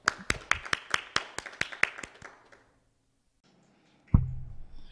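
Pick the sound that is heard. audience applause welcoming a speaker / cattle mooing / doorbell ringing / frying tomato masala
audience applause welcoming a speaker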